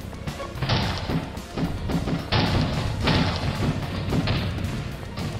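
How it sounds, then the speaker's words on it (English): Frost Giants in the video game Hermodr launch spiky balls, producing repeated heavy thuds and crashing impacts mixed with bursts of noisy debris, loud and continuous across several seconds. "Why are they shooting spiky balls?"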